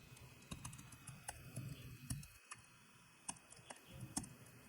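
Fingers typing on a computer keyboard, including a press of the Tab key, make a quiet, irregular series of light key clicks, some in quick pairs, heard close up with no talking.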